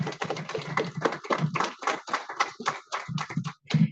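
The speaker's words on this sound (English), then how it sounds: "Another big round of applause for Mr." An audience claps at a chapter monthly meeting, a scattered round of applause from a modest crowd with uneven individual claps rather than a dense roar.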